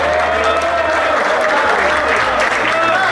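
Loud sustained applause and crowd noise from an audience at a Brazilian fight event, dense clapping filling the space, with voices mixed in underneath.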